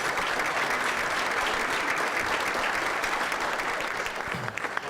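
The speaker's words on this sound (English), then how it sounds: "Let's give them a round of applause." A banquet hall audience claps steadily at an awards dinner, honoring the culinary arts group who cooked the meal; the applause stays full and even, thinning slightly at the end.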